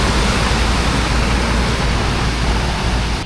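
A water tanker rolls through a flooded station road in heavy rain, producing a loud, constant rushing wash of water and engine rumble that stays even throughout.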